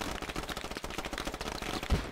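Rapid, dense gunfire from a shooter video game rattles continuously, with a heavier blast near the end, loud and sustained with no pauses.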